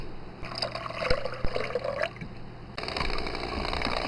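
Homemade liquid laundry soap being stirred and mixed, sloshing watery sounds with a few sharp knocks early on, then a steadier pouring, swirling wash for the last second and a half, close, no talk.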